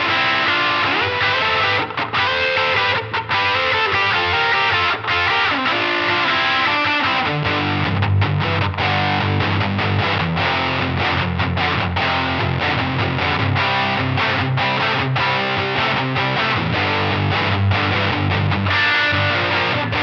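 A heavily distorted electric guitar through a Proco Lil' Rat distortion pedal plays continuously, thick and saturated, with chords and riffs at a steady loud level.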